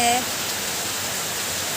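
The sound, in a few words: heavy rain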